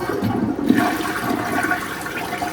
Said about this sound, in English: The flush test.